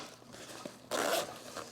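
A small zipper with a tiny pull on a 5.11 Utility chest pack being run, a quick near zip burst after a faint click, heard alone at close range.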